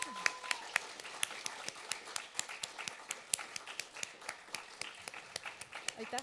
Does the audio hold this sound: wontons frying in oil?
no